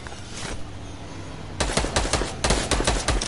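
Video game gunfire in rapid bursts of sharp shots, loud and close, starting after a quiet stretch and repeating irregularly to the end, with no voices over it.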